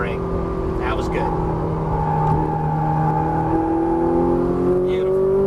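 A Ferrari 458 Italia on a racetrack, its engine droning and rising in pitch as it revs and accelerates, loud and close with rushing wind noise, while an instructor talks over it.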